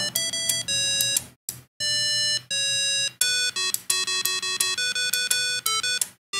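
An Arduino driving a speaker and relay module plays a melody of bright, square-wave electronic tones in short stepped notes, broken by brief silences, with faint relay clicks adding percussion and no voices.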